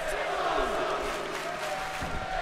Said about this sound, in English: NXT, the crowd chants.